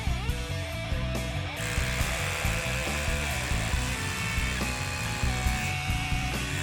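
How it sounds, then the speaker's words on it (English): A RIDGID 18V OCTANE SDS-Plus rotary hammer drills into concrete, giving a loud, continuous, close-up whine and hammering rattle with no break. "it's still going through like nothing. No issues at all trying to get through that concrete"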